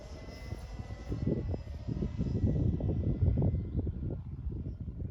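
A Seagull Westland Lysander electric RC model plane on 12s power drones steadily overhead at a flying field, its motor and propeller whine swelling and fading as it passes at moderate distance.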